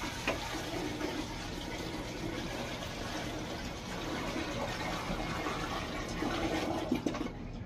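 Water is poured out in a washroom and a toilet is flushed, producing a continuous rushing, gushing wash of water that runs steadily for several seconds at close range with no talking.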